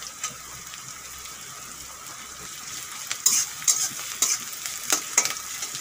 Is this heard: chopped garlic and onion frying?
yes